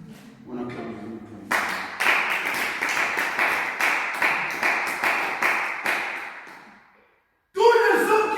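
A church congregation claps in unison to acclaim God, a steady rhythmic run of loud hand claps repeating about once per half second, after a voice speaks and before it resumes at the end.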